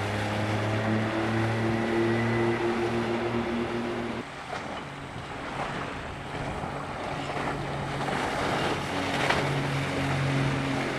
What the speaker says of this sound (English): There's Greg at about probably 24 knots